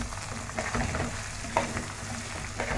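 Koshari ingredients are stirred and sautéed together in a hot pan, giving a steady, close sizzle with scraping stir strokes and a few sharper clinks along the way.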